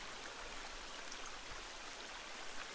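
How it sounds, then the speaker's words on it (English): Waterfall in the video game The Forest, a constant broadband rushing roar of falling water, steady and unbroken throughout, with no voices. "it's this waterfall, mine's very loud."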